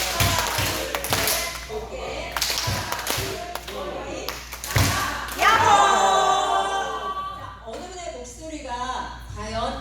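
A group at a church lecture claps together in steady rhythmic bursts during an exercise, then voices take over, calling out and singing over a few softer claps.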